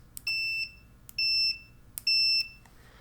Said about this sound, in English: continuity mode means that when you touch the two probes together, they make a beeping noise